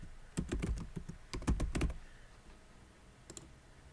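A computer mouse clicks several times in quick succession near the mic, in two short bursts followed by a single faint pair of clicks, with no talking.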